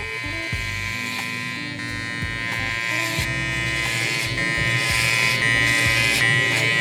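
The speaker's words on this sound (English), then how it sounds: "we're gonna create the base of our burst fade with a 3 guard lever open" Electric hair clippers with a 3 guard, lever open, buzzing steadily while cutting a burst fade, close and loud with brief pauses and changes in pitch as the blade moves through hair.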